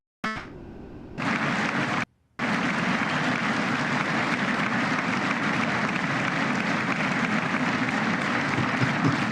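A crowd at a State of the Union address applauds in a steady, dense wash of clapping that runs for several seconds after a brief opening gap and a short dropout, with no talking over it.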